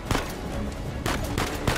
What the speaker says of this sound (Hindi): भाई गोलियां मारे जा रहे हैं